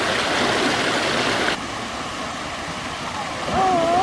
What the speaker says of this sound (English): Welcome to the smallest waterfall ever.